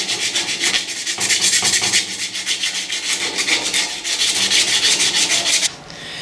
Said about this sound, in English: I've finished sanding now all over